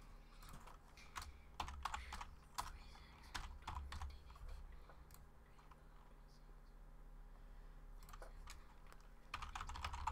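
Someone types a website address on a computer keyboard, with bursts of quick, close key clicks separated by short pauses and a faint background hum.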